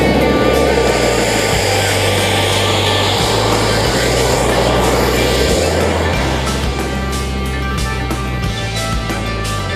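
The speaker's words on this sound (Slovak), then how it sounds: "Albatros je naše čisté prúdovné lietadlo. Ideme na pristánke." The Albatros jet comes in to land with a loud, sustained engine roar and whine, close and steady throughout. A voice may be talking faintly beneath it.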